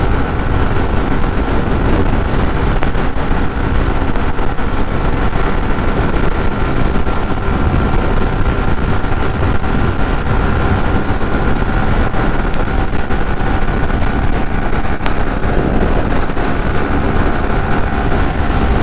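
Strong headwind roars across the microphone of a motorbike riding at about 115 on a highway, a loud, steady buffeting rush that runs unbroken the whole way through.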